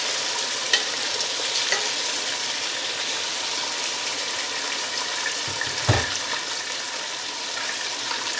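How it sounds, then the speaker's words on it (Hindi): Mutton pieces frying bhuna-style in a pan with ginger-garlic paste to follow, a constant dense sizzle with a brief clatter of stirring midway and no talk. "अब इसको भूनेंगे।"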